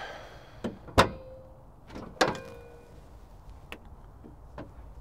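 Billet hinges on a lifted Chevy K10 truck's hood clunk as the hood opens, giving a few sharp close metallic clicks and thumps spread over several seconds amid quiet room tone.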